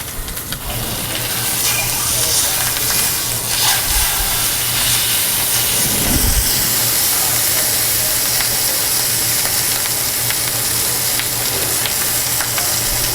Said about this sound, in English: Okay, skin side down. And we're going to caramelize our skin to get a nice golden crust on it.